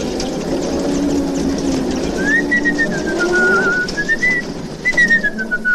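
A person whistles a wavering, sliding tune of a few held notes over a low engine-like rumble in the background.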